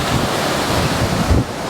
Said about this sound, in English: Yeah, the ocean is just beautiful. I can actually hear it from my window